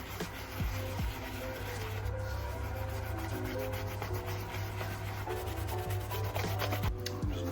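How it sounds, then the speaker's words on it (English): A horsehair brush scrubs a shoe coated in Angelus Foam Tex cleaner, making a quiet, continuous bristly rubbing with quick back-and-forth strokes, close and alone. "Just give it a good scrub with one of our Sapphire horsehair brushes."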